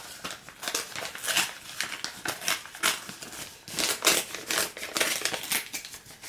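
A paper envelope is crinkled and crumpled while being torn open, close and fairly quiet, with repeated irregular rustling bursts and crackles and no talk.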